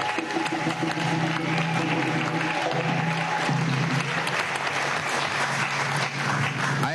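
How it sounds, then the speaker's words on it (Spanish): A crowd applauds steadily and loudly at an Afro-descendant leaders' summit in Harlem, a dense wash of clapping that holds at a constant level throughout without any voices. "Aplausos."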